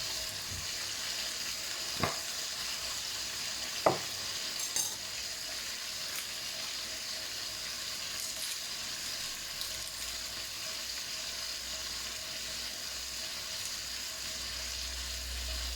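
Steady, quiet sizzle of pork frying for Thai-style crispy pork crackles continuously throughout, with a few faint clinks of a utensil near the start and no voices.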